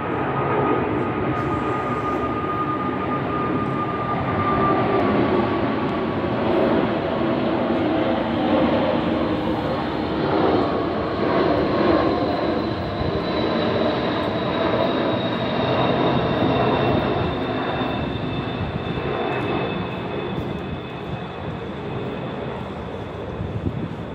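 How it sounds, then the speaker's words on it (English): A fixed-wing airplane passes overhead, a steady broad engine roar that holds loud and near for most of the stretch before easing slightly toward the end, with no talking over it. "I'll wait till the airplane."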